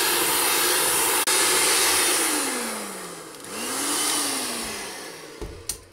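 An electric mixer blends zebra cake batter with cocoa, its motor whining loudly and steadily up close, with the pitch dipping and rising as the speed shifts, then a few clunks at the end.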